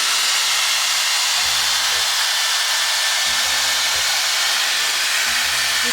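A Dyson Airstrait hair dryer-straightener runs as a steady, loud airy hiss while gliding through hair. Low thumps recur every couple of seconds as it passes along the strands, with no one speaking.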